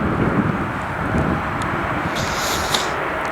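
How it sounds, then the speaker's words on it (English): An SAS CRJ900 LR regional jet landing at night, a steady broad engine roar with wind noise, fairly near and constant throughout, no talking. "this is an SAS CRJ 900 LR from SAS"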